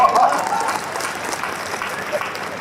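A Hindi comedy poetry gathering audience applauds with dense, steady clapping that stays fairly loud throughout, tapering slightly toward the end.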